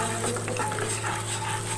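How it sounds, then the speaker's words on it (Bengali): Spiced masala cooked down with sour yogurt in a pan for mango paneer, a steady soft sizzle with faint scraping stirs running throughout, close and unbroken, with no voices. "টক দইটা দিয়ে ভালো করে এটাকে কষিয়ে নেব।"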